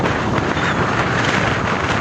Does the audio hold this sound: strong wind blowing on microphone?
yes